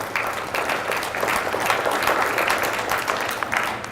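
Seminar audience applauding steadily throughout, a dense wash of many hands clapping at moderate loudness with faint voices underneath.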